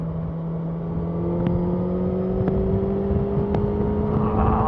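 A 2018 Honda CB1000R motorcycle engine pulls hard in fourth gear at around 90 to 100 km/h while overtaking, giving a steady drone whose pitch climbs slowly under rushing wind.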